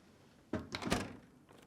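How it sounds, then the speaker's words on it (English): A Whirlpool dishwasher's lower rack slides in with a brief rattling rumble, followed by a dull thud as the door swings shut, close by and fairly quiet, with nobody talking. "Then, push it back into the dishwasher and close the door."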